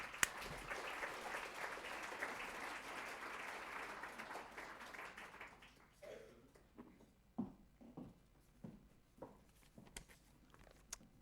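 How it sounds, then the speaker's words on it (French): Audience applause at an evening business event in Geneva, a dense steady clapping for about six seconds that thins out into scattered claps and small noises, with no talking. "On peut applaudir Véronique Kempfen."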